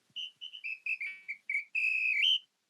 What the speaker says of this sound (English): Callum plays the whistle.